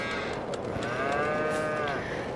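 Cattle mooing in Farming Simulator 22 on a brisk, cold day, one long sustained moo with rising and falling harmonics, loud and close over steady farm ambience.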